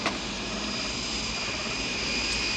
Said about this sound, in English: 905-K4, yes, you are cleared for takeoff